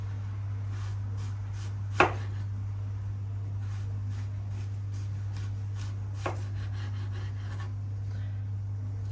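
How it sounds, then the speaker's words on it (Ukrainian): A knife slices an apple into rings in a few slow, separate crisp strokes over a steady low hum, close and quiet. "І тепер буду нарізати такими колечками."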